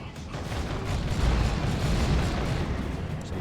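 A multi-melter fires in a Dawn of War 2 3v3 battle against Chaos Terminators, a dense, roaring blast of heat and explosions sustained for several seconds at steady loudness with no talk over it.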